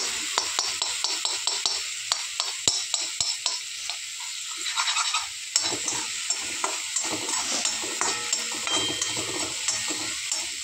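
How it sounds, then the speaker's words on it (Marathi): Tomato-chili puree being stirred with softened onion and oil in a hot pan for Maggi, a close, sizzling fry under repeated sharp clacks of a spoon against the pan, the taps dense early and more scattered later. "आता मिक्स करणार आहे।"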